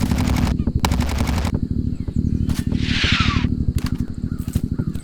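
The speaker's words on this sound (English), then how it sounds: "Mortar fire still coming in from the west." Gunfire crackles in a military game: rapid, loud bursts in tight repeating volleys, broken by a rushing whoosh from incoming mortar fire before the shooting resumes.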